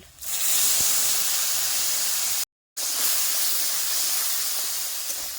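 Water poured into a hot pan of spiced fish curry with turmeric, cumin and chilli gives a loud, steady hiss and sizzle that runs for several seconds, briefly cut off midway, with no talking.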